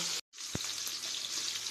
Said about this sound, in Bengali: এখন মাছগুলো আমি লাল করে ভেজে নেব